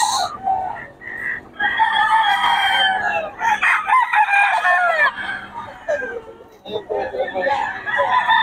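A rooster crows loudly and repeatedly among clucking chickens at a poultry gathering in Bocaue, with several long calls close by and faint background noise between them.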